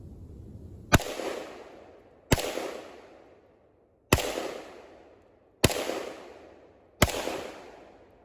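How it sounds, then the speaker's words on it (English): Five separate gunshots from a Zastava ZPAP M70 rifle fired at about 20 yards. Each is a sharp, loud crack with a decaying tail, spaced roughly one to two seconds apart. "So we're going to go a group of 5 rounds here from about 20 yards."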